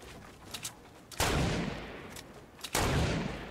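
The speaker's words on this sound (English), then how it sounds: "Oh, I'm getting shot from elsewhere." Gunfire from the game Fortnite crashes in two loud, sharp bursts, each followed by a decaying roar, with faint smaller shots scattered before them.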